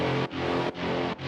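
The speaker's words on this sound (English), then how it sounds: "all I have is horns and screeches to support the main idea" Sustained synth horn chords, rich and bright, swell in three long held blocks separated by brief dips, loud and close with no voices.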